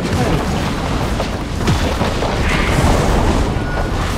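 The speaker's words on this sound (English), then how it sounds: "Your team has destroyed a turret." A turret being destroyed in the League of Legends video game, a loud, dense booming explosion that rumbles continuously for a few seconds amid other battle noise.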